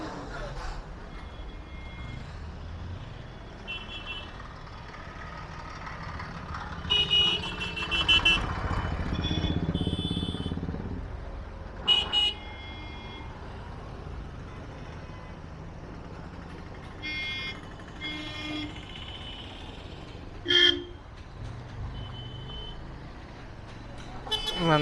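Road traffic on the way to Dhanushkodi, heard from a bike stopped in a jam: a steady engine rumble with a louder surge of passing vehicles midway and several short horn toots spread across the stretch, some near and some farther off.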